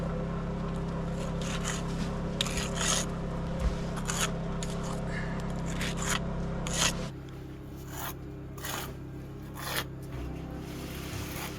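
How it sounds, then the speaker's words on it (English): Grout being worked into the joints of a concrete block wall outdoors, heard as repeated close scraping and rubbing strokes over a steady low background hum. "filling in all the joints"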